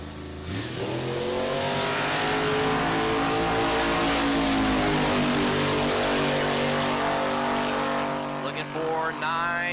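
A 1964 Ford Falcon drag car racing in the C-Gas class at a drag strip, its engine roaring loud and close as it revs up through the gears, then fading near the end, with a voice talking over it.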